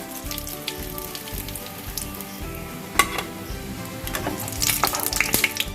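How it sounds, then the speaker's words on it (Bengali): Pumpkin flower fritters sizzle in hot oil in a pan, a continuous crackling fry with occasional sharper pops and clinks of a utensil, growing busier toward the end. "চারটে ফুলের বড়াই আমার ভাজা হয়ে গেল।"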